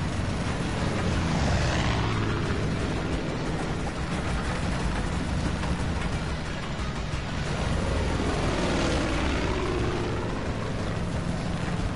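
Propeller plane in Far Cry 5, burning and under attack, with a steady loud engine drone and rushing wind filling the whole stretch, swelling slightly at moments, with no talk over it.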